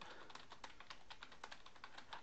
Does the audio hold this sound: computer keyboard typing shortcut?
yes